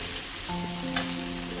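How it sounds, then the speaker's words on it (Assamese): Spices with a splash of water sizzle softly in a pan for an Assamese crab curry, a low steady crackle under a faint tonal hum, with no talking. "মছলাখিনি এতিয়া আমি ভাজিম"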